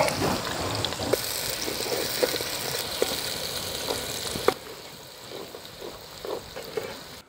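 Onions frying in hot oil with cinnamon, cloves and cardamom for mutton boti biryani, a dense close sizzle with a few sharp clinks of stirring, quieter partway through, no talking.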